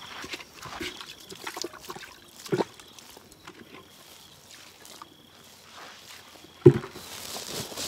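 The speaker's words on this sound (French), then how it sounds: "il va encore ajouter un peu d'eau" A little water is poured into a homemade compost fertilizer mix, a faint, intermittent trickle and dribble with soft handling noises and one sharper knock near the end.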